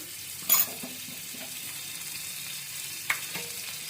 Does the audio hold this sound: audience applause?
no